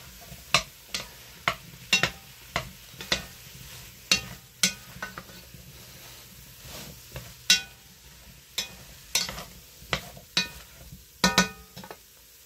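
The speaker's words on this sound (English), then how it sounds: "I'm going to put in the carrots and the potatoes. In they go. Stir that up for a few minutes" Carrots and potatoes for a homemade beef stew are stirred in a frying pot, with a steady background sizzle and about twenty sharp, regular scrapes and clinks of a spoon against the pot, close and clear.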